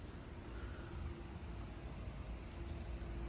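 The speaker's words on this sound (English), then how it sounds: "It's actually raining in the desert." Rain falling in the desert, a soft continuous hiss of drops with steady low rumble underneath, moderately quiet and even throughout, no talking.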